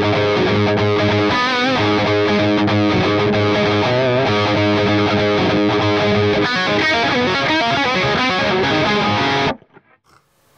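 Distorted electric guitar plays an intro, a dense, fast run of overdriven notes and chords, loud and continuous before stopping abruptly near the end, leaving faint fading ring.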